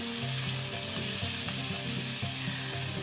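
Fish pieces fry in a hot pan for a fish curry with mango, a steady dense sizzle running throughout at close range with no voices.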